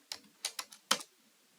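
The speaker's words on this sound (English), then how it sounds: "here we will type hello.php" Keys click on a computer keyboard in a short burst of four or five close, crisp taps, with no voice over them.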